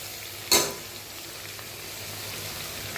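Brinjal sautés in a pan with a soft, steady sizzle; one sharp scrape or clack of the spoon comes early, then the low frying hiss continues quietly.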